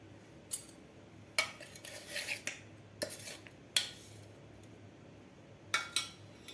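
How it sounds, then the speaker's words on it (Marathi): Crushed Oreo biscuits being moved into a bowl for a cupcake, heard as a few sharp, close clinks and scrapes of utensil against dish, spaced apart by quiet pauses. "आता आपल्याला एका बाऊलमध्ये हे बारीक केलेले बिस्किट काढून घ्यायचे आहेत"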